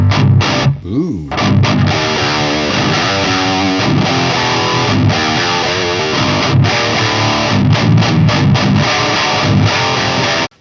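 Heavily distorted metal guitar through a Fryette Deliverance amp with the power amp pushed, loud chugging riffs with rhythmic palm-muted stops and brief gaps, played alone without talk.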